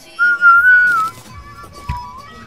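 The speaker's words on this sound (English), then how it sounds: "Whistling." A tuneful whistle in a Terraria let's play session, a couple of sustained rising and falling notes that are fairly loud, then a quieter lingering tone over a faint background thump, with no speech.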